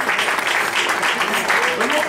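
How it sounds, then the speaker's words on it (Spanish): Congregation applauding during an evening church service in Pacoima, a dense, steady wash of clapping with some voices mixed in throughout. "Un fuerte aplauso."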